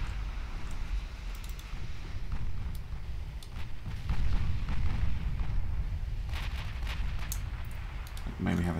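Warship guns fire in the naval battle game Ultimate Admiral Dreadnoughts. Deep rumbling booms and crackling salvos roll on continuously, with a few sharper distant reports and no clear voices.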